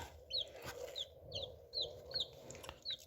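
Soft, high-pitched peeping from chicks hatching in an incubator repeats in short chirps about every half second over the incubator's low steady hum, with no talking.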